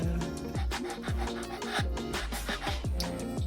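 An abrasive eraser rubs back and forth over a pyrography-burned wooden piece, giving a steady, close scrubbing rasp in quick repeated strokes with no voices.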